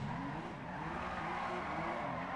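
Car tires squeal in a steady, sustained skid as a car drifts in the FiveM driving game, the screech joined by engine roar and continuous, without voices.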